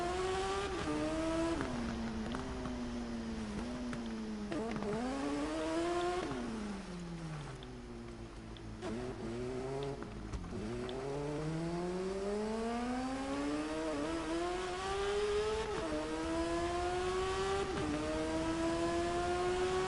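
Motorcycle engines race continuously in the TT Isle of Man game, rising and falling through repeated gear shifts with a sustained high-revving whine and no talk over it.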